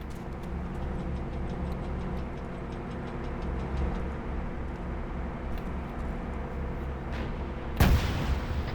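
An RPG fires in an Arma 3 infantry training session: one loud, sudden blast near the end, after a long stretch of steady rumble and faint ticking battlefield noise.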